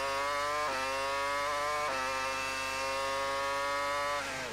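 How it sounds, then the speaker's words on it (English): A 2002 Formula 1 car's high-pitched engine screams steadily at full revs on the Canadian circuit, its pitch dropping sharply at a few gear changes before climbing again. No voices. "You can hear how hard the engine works around this circuit."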